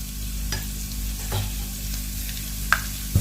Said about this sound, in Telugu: ఇలా పోపు అనేది వేగనిద్దామండి